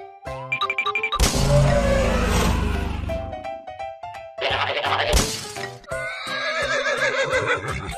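Cartoonish horse neighs and whinnies in an escape room guessing game, loud and close, mixed with crashing, shattering effects and bright game sounds in quick succession.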